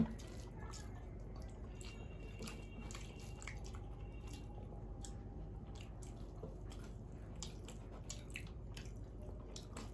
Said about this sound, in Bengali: একটু লেবু চিপে খাবো এবার।